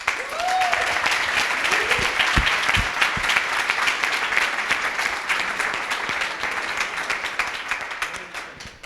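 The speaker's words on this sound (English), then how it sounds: "So please give them a big round of applause." Audience applause for coding bootcamp students at a demo day in Montreal, a dense, steady clapping that fills the room for several seconds and tapers slightly toward the end.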